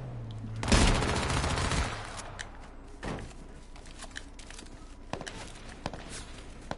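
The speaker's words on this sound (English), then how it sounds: "I hear shots." Gunfire in the video game H1Z1: a loud, close burst of rapid shots, then scattered fainter single reports and thuds further away.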